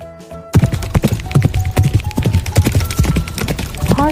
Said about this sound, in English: Our last farm animal is a horse.